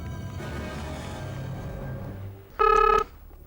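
Muffled background noise, then a single short, sharp telephone ring tone sounds clearly near the end.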